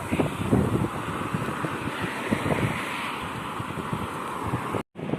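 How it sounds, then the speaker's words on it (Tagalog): Steady, rumbling wind buffets the microphone outdoors at the start of winter, a loud continuous roar with gusty swells and a brief dropout near the end. "Mahangin lang, mahangin, mga kapatid."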